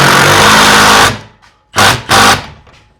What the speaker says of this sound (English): now we're gonna raise the garage door